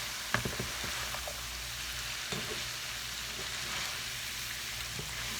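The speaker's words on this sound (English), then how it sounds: "I've got the apples in the fry pan" Apples sizzle in a frying pan as they are stirred, giving a steady crackling hiss with a few scattered clicks and scrapes from the spoon, close and fairly quiet, with no voice.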